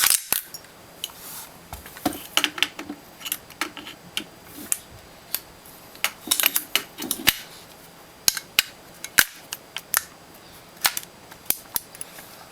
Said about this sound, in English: let's do a test fire of the gun with a few mags that I have